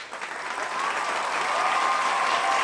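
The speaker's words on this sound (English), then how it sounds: "give up a clap for them. Clap, y'all." Sustained audience clapping that swells and grows denser, a broad crowd patter heard moderately loud with no speech over it.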